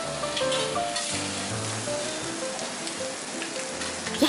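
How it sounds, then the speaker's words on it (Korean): Melted butter sizzles on a hot teppanyaki griddle at a Japanese restaurant, where abalone and other ingredients are being cooked; a steady close crackling hiss runs throughout with no talking. "버터를 녹여서 쫙 뿌려주고."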